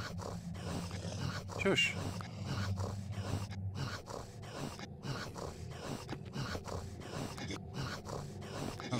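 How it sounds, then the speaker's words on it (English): A dog snores in the Mist Survival video game, a low rumbling snort that rises and falls in uneven breaths and sits mid-distance under a brief spoken word. "Sounds like a snoring dog."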